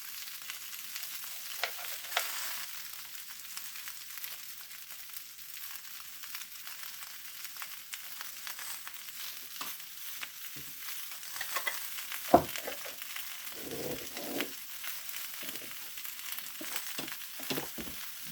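Garlic fries in a pan alongside bacon, potato, cabbage and kielbasa, giving a steady sizzling hiss broken by scattered crackles and a few stirring clinks, close and even throughout with no talking.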